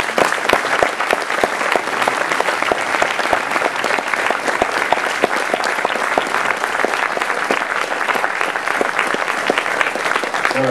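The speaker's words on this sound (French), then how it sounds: "je pense qu'il mérite vraiment une ovation pour tout ce travail réalisé" Sustained applause from a festival audience at the closing evening of Cinémondes 2015, dense steady clapping filling the whole stretch at an even level with no voices on top.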